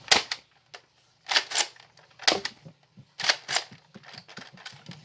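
Sharp plastic clicks and snaps from a Nerf Vortex disc blaster being worked and fired, in several quick bursts close to the mic, with no talk.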